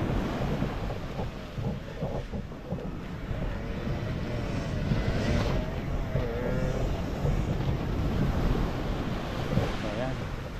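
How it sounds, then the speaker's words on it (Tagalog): Rough sea with high waves crashes and surges continuously, a dense roar mixed with wind gusting across the microphone, while a voice talks faintly in the background. "talagang ang taas-taas ng alon yan."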